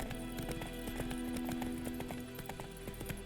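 Hooves of Geralt's horse Roach in The Witcher 3 beat out a quick, regular clip-clop, fairly quiet, over a faint steady hum.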